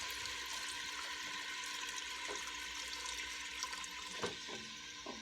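Chicken broth poured into a soup pot with bacon and onion, a steady splashing liquid pour running throughout at close range, loud and continuous with faint kitchen clatter and no talk.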